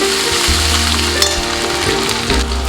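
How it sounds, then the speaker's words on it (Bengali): Ginger frying in a pan for a Bengali potato curry, a loud, close, dense sizzle running throughout with a few faint clinks. "আদা দিয়ে ভালো করে লাগবো গ্যাসের পুরিটা একটু আস্তে দেবো নিয়ে একটু কড়া করে ভাজবো"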